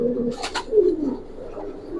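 Giribaz pigeons, Palla line birds, coo softly and close by, a few low throaty rolls with a brief noisy flutter early on.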